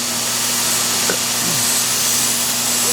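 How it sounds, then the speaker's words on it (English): Belt grinder dressing the edge profile of a CPM-3V steel knife blade in a knife factory grinding room, a loud, continuous whirring drone with faint scraping of metal against the belt, up close and steady. "we're on the blade side of the grinding room with Nathan."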